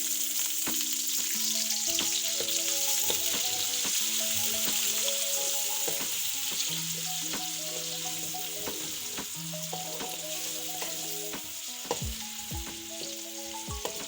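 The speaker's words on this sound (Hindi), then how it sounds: "कलर चेंज होने तक मैं इसे अच्छे से भून लेंगे, हम फ्राई कर लेंगे प्याज पकने पर।" Onions frying in about a cup of ghee in a pan, a steady close sizzle and crackle running throughout with intermittent clinks and scrapes of stirring, no talking.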